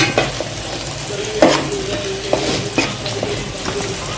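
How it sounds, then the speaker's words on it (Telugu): A spoon stirs salted masala gravy in a pan, giving scraping strokes with a few sharper knocks against the metal over a steady low sizzle, close and alone with no talking. "సో ఇప్పుడు అదంతా బాగా మిక్స్ చేస్తాం"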